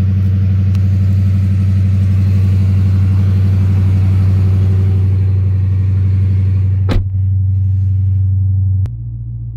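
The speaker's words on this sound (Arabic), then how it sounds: "السيارة عليها إكزاست سيستم، بهذه الحالة ما نقدر نقيم مستوى العزل" A 2022 Dodge Charger R/T with the 5.7 V8 and an aftermarket exhaust idles loudly with a deep, steady rumble, briefly blipping before the idle drops lower near the end.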